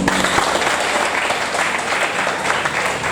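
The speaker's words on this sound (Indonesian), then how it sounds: "Tepuk tangan dulu." A school audience bursts into applause, a dense steady crowd clapping that fills the whole stretch without pause.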